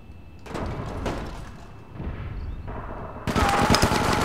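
Gunfire in the online shooter game APB Reloaded, with rapid bursts of close, loud shots in several separate volleys, ending in a louder, denser stretch of fire.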